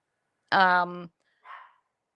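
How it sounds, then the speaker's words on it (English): A dog gives one clear, tonal bark followed by a softer, shorter yip a moment later, close by and alone against a silent background. "I have no idea what he's barking about."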